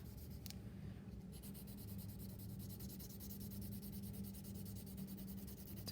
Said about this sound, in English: take your pencil and shade as dark as you possibly can